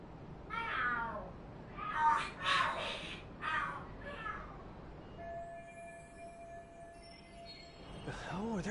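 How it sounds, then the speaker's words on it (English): Cats fight and scream in Lost Judgment: a run of loud, wavering yowls and screeches in close bursts, then a quieter stretch with a steady tone and one last yowl at the end. "The hell? Are there cats fighting?"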